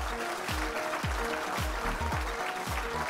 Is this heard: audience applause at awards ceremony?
yes